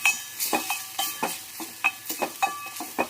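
Kolhapuri chili powder and salt roast in oil for a potato bhaji, with quick rhythmic scraping strokes of a spoon in the pan over a light sizzle, close and clear with no talking.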